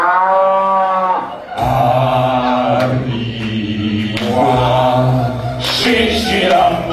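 Cattle moo with long, harmonic lowing calls that recur loudly over several seconds, mixed with stage music from a cabaret performance.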